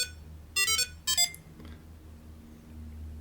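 A phone alarm set off by pressing the tracker button twice on a car key fob: two short bursts of bright electronic beeping, the second briefer, ringing out over a quiet low hum, then fading to silence.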